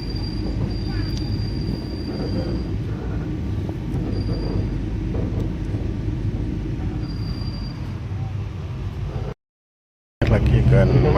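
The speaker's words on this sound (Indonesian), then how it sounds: "Lagi kan masuk dan berhenti stasiun Probolinggo" A long-distance train rolling into Probolinggo station in Indonesia, heard from inside as a steady, loud low rumble of wheels and carriage noise with faint squeals, which cuts out briefly and then resumes.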